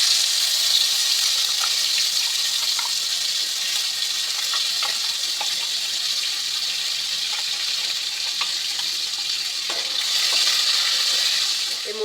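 Spice paste for a Katla fish curry dropped into hot oil tempered with black cumin, giving a loud, steady sizzle and hiss with faint stirring clicks throughout, no voices.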